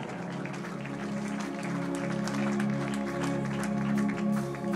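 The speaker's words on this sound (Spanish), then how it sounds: "Denle un aplauso al Padre" A church congregation applauds for the priest, a broad steady wash of clapping that swells slightly toward the end over a low sustained tonal hum.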